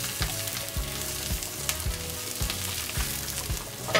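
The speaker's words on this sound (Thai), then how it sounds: "เราผัดตรงนี้ใช้เวลาไม่นานนะครับ" Chinese sausage stir-fried with dill leaves in a pan, giving a constant close sizzle and regular rhythmic scrapes and knocks of a spatula against the pan.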